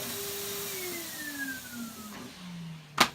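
A Henry vacuum cleaner picking up fur runs with a steady motor drone whose whine slowly drops in pitch, ending with a brief sharp knock.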